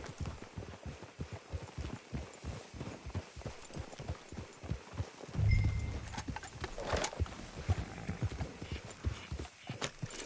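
Steady horse hooves clip-clopping at a walking pace in the video game Red Dead Redemption 2, fairly close, with a brief louder thump partway through and faint background ambience.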